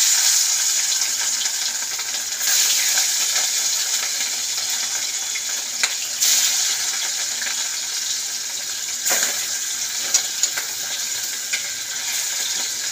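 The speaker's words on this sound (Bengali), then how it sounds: "তো মাছটা ভাজা হোক" Fish frying in hot oil in a kadai, a steady loud crackling sizzle with occasional pops and brief surges, no voices.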